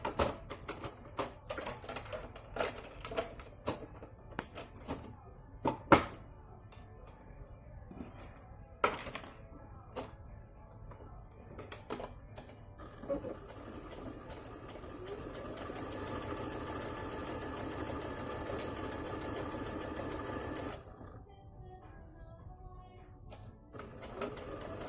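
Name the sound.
sewing machine stitching fabric face mask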